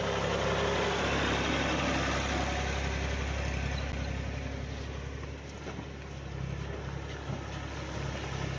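Tractor engine running steadily while recovering a rally car off a stage, a continuous low rumbling drone that stays loud and even throughout with no talking.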